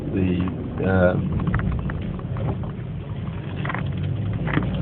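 A car drives along with a steady rumble of road and engine noise, and a person talks over it at the start.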